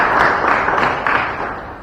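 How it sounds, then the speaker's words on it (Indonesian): Audience applause in a motivational seminar hall, a dense, steady wash of many hands clapping together, fairly loud and continuous, tapering slightly toward the end. "tepuk tangan untuk itu"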